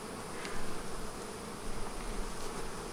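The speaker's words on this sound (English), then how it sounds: "there's a lot of bees in here" Honey bees buzz densely inside an open beehive in a bee yard, a steady close swarm drone with no talking.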